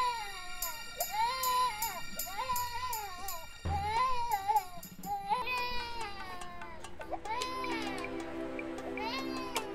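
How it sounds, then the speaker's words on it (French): A baby wails in repeated rising and falling cries that go on without a break, loud and close, with other voices talking over part of it. "pourquoi est-ce que ton bébé pleure?"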